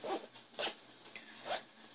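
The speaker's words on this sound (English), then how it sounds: "Let's check that zipper out." The zipper on a small sewn bag being pulled open and closed, with three or four quick, close rasping zips separated by brief pauses in a quiet room.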